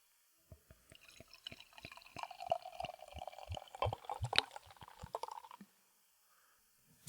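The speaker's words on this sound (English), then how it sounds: "We're gonna get that nice pour audio" Craft beer poured close to a microphone at a brewery tasting, a run of sharp drip-like ticks building into a busy liquid fizz and splash for about five seconds, then near silence, alone without talk.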